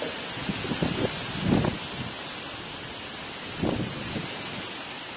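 Strong wind blows outdoors before rain during Cyclone Amphan, a constant broad rushing roar with a few louder buffeting gusts hitting the microphone.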